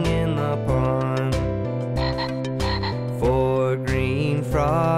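Frog croaking in a children's animal song, rendered as bright musical, tonal croaks set to melody rather than natural field sound, loud and close throughout.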